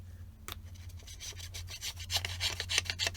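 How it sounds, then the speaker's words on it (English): Scissors or a trimming blade cut excess paper off a scrapbook tag, giving soft scraping and rubbing strokes that grow louder and more rapid toward the end, heard close and alone. "we're going to trim the excess off"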